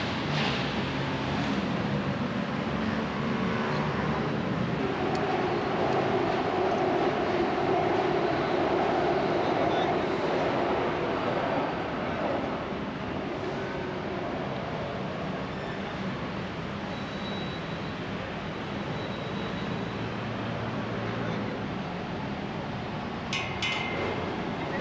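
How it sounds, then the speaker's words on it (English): Bangkok Sky elevated train passing overhead, a steady broad rumble and rail roar that holds loud for the whole stretch with faint traffic wash underneath. "This is the Sky elevated train."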